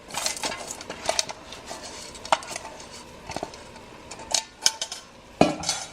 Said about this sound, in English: Adding in my lentil in there.